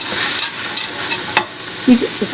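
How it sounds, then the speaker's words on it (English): Small brown lentils stirred into extra virgin olive oil in a pot for a Mediterranean lentil soup, giving a soft, steady sizzle with a few scraping strokes of a utensil, up close with no talk. "Mix them in there so that way they can get covered in oil."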